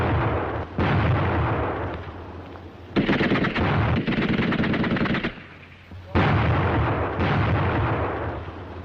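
Grenades and small-arms fire in a WWII infantry charge, with loud repeated explosive bursts and rattling gunfire in long dense stretches separated by short lulls, and no talking.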